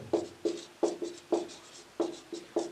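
Chalk or marker taps and strokes on a board as the distance formula is written out, a steady series of close, quiet scratchy marks with short pauses between them.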